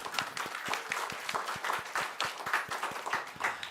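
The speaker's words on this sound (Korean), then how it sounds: "우리 수고하신 분들에 박수 한번 하시겠습니다." Church congregation clapping together during a Sunday worship service, a steady run of rhythmic hand claps across several seconds, fairly close and even in loudness.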